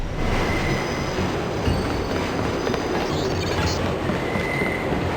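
A train in the Deus Ex video game rumbles steadily with dense, even noise and faint wheel squeal, loud and close throughout, with no voices over it.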